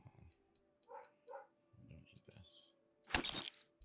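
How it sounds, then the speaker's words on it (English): Dogs bark in the video game Starfield with a few short yips and barks amid game clicks and effects, while someone talks over them. "Oh, those damn dogs."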